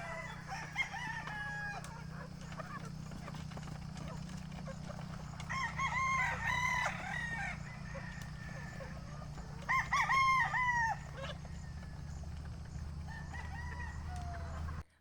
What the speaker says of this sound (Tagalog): Puro sila mga cockerels na alpas ngayon